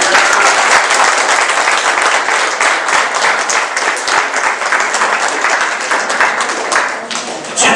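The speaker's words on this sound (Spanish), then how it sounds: "Den un aplauso al Señor" Vigorous congregational applause at a church service, a loud, close, unbroken roar of many clapping hands that stays strong for nearly eight seconds before easing slightly at the end.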